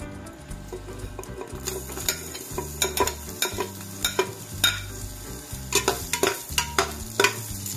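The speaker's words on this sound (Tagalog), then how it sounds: "Magigisa muna tayo." Garlic sautéing in a pan for a tripe and beef stomach stew, a steady sizzle under rhythmic clinks and scrapes of a spatula stirring, close and fairly loud.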